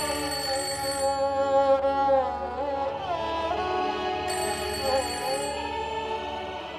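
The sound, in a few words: telephone ringing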